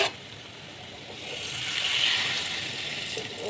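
Water pours steadily into a pan of potatoes and soya chunks, a close, moderately loud hissing rush that swells toward the middle and continues for several seconds.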